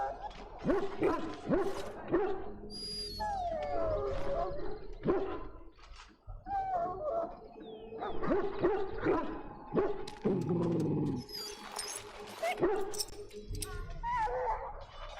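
Dog barking, yipping and whimpering in the video game Dragon Age: Origins, with repeated close barks and whines over steady game ambience and music.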